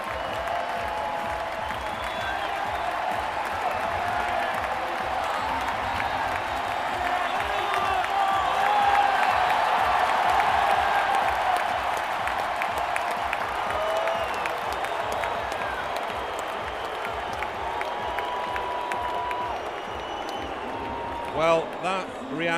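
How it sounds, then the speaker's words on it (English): Stadium crowd in Marseille roaring and applauding as Tour de France cyclist Romain Bardet finishes a stage, sustained loud clapping and cheering that swells midway and fades near the end. "Bardet got a huge cheer"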